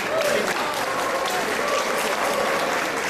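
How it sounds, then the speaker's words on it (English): Audience clapping steadily at a resort's 30th anniversary celebration in Palau, a dense, even round of applause from a crowd heard throughout. "Let's give them a big round of applause."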